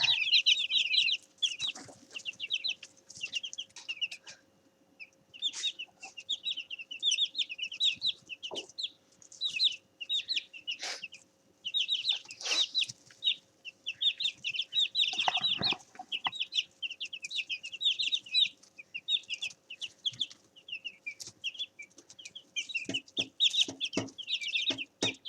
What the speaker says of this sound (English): it's time for little chickens to go to bed.